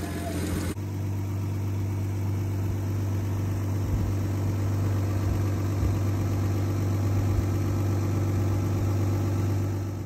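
A Lexus IS200 with a turbo build idles while warming up, a steady, even engine hum with a constant low drone and slight vibration throughout, close and unbroken.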